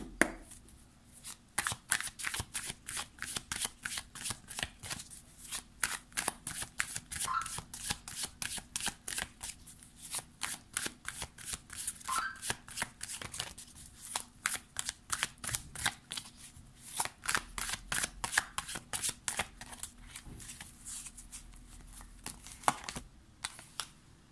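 Arcanum Tarot cards are shuffled by hand in a long run of quick, crisp riffling bursts that repeat with brief pauses, close and clear, with no talking over them.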